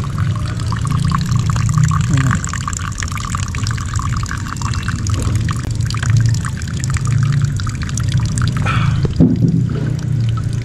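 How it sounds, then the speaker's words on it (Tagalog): Water trickles and drips steadily as it drains from the carburetor of a Honda Supremo motorcycle after rainy weather, a continuous close liquid pour lasting about ten seconds with a low background hum. "i-drain itong carburetor natin"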